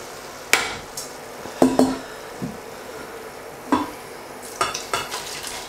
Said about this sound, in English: Now I'm going to transfer it to a big stock pot.